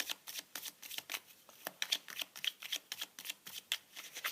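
Tarot cards being shuffled and handled at close range, a string of quick papery riffles and soft flicks in uneven bursts, fairly quiet, with no talking.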